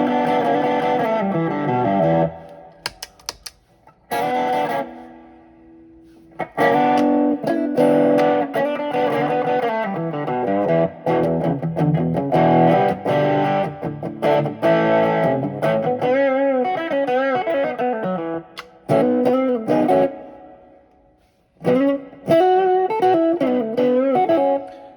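Fuzzy, heavily distorted electric guitar plays chords and runs, the overdriven tone buzzing and sizzling, with brief pauses between phrases.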